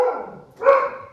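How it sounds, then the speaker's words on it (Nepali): Dogs barking around midnight in Siliguri: two drawn-out, fairly close barks separated by a short pause, with no talk over them. "अनि कुकुरहरूलाई के भयो आज"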